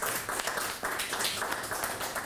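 Applause from a studio audience on a Swedish bingo lottery show, a steady, fairly faint wash of clapping lasting a couple of seconds with no voices over it.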